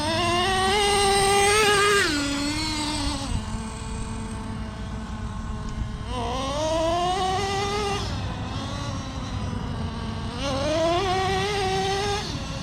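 A Traxxas T-Maxx 3.3 nitro RC engine screams at full throttle in repeated rising and falling revs of about three seconds each, high-pitched, buzzing and steady, with no talking.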